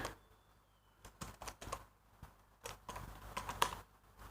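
Close computer keyboard typing in short bursts of quick, light key clicks with brief pauses between, quiet and without talk.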